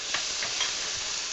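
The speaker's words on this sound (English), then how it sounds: "Sizzle, sizzle, sizzle." Chopped mushrooms sizzle steadily in a hot pan while cooking for chicken lettuce wraps, a close, dense, continuous frying hiss with faint stirring scrapes and no talking.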